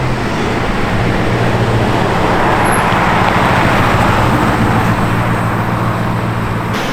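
A Porsche 928 S4 with a V8 engine runs at low speed, a loud steady engine rumble with low humming tones and broad road-like noise throughout, no speech.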